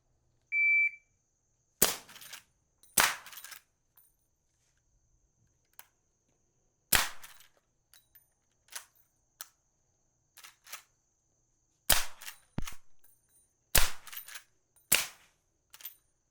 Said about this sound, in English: you can get stuff like this Hornady Sub-X that sounds really good in a lot of these 46 cal suppressors like the Dead Air Primal